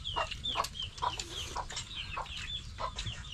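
Several chickens cluck in short, repeated bursts at close range, with a steady low farmyard rumble underneath.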